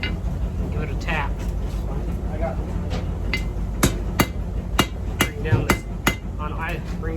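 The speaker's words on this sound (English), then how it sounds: "we're going to take our punch and give it a tap" Hammer taps a steel punch to re-flatten a rivet while forging riveted tongs, giving a series of sharp metallic strikes, several close together, over a steady background hum.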